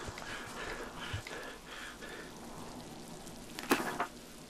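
Steady rain in the video game Miasmata, a soft continuous hiss across the clip with faint game sounds and a brief sharper clatter near the end, no talk over it.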